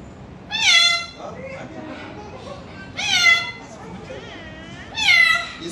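A voice imitates a cat's meow three times, with evenly spaced, high, rising-and-falling calls, close and clear, and quiet murmuring between them.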